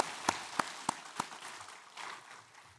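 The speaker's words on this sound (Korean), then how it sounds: "영광의 박수를 하나님께 드리겠습니다" A church congregation at a Sunday worship service in Daegu gives four sharp, evenly spaced claps in unison, then falls to a faint, diffuse rustle.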